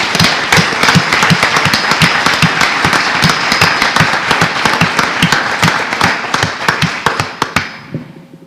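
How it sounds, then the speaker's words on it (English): Applause for a student at a school board meeting: dense, loud clapping from a room of people with distinct sharp claps, fading out near the end. "You can go ahead and clap because Sydney's on the way up."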